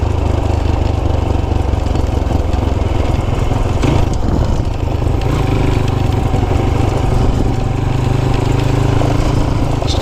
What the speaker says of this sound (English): Trying to make as least noise as possible with this shitty exhaust.